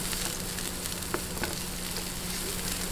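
Onions and garlic sautéing in a pan for chili garlic bangus, a steady soft sizzle throughout with a couple of faint stirring clicks, close and continuous with no talking.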